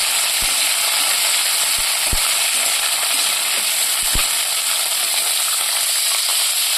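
Radish and potato pieces, with kohlrabi added, fry in a pan with a steady, close sizzling hiss, broken by a few sharp clicks of a utensil against the pan.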